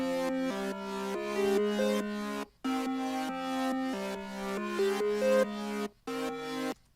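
Layered Serum synth chords from a Serum kit form a chord countdown loop built in FL Studio, with sustained stacked harmonies over a low bass that stop and restart in short repeating phrases.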